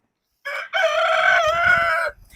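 A rooster crows loudly and close by, one long harmonic cock-a-doodle-doo with a short lead-in note, ending in faint rustling.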